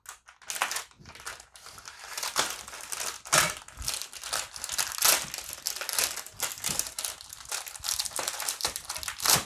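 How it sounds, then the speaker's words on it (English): A simple bayonet spike punctures and tears the plastic packaging of a French Army combat field ration, giving close, loud crinkling and crackling with sharp tearing bursts. "It's just a simple spike, but I think it'll cut through that plastic okay."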